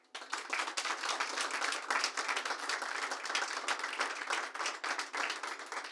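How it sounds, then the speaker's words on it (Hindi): An audience claps enthusiastically to welcome three panelists at a talk event, a dense, continuous patter of many hands with crisp individual claps, steady throughout. "तो एक बार जोरदार तालियों से स्वागत करते हैं"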